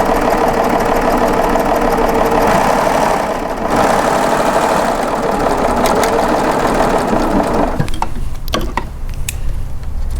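A serger sewing machine stitches fabric guided along the foot, giving a loud, steady mechanical whir and rapid clatter for about eight seconds before it slows and stops, followed by a few brief clicks.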